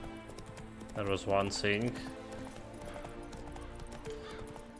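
Horse hooves clip-clop at a steady rhythm while riding in The Witcher 3, moderately close, with a brief whinny near the start. Someone talks over the hoofbeats.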